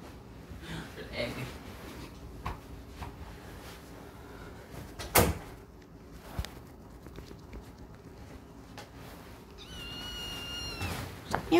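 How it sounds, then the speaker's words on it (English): A door is shut indoors with a pet cat close by: one sharp knock midway through scattered shuffling and handling noises, and a brief meow-like cry near the end, with a person talking in the background. "Kitty, you need to get off me so that I could shut the door"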